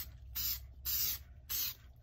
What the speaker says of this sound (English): Now I'm going to use my epoxy mold release and just give this a good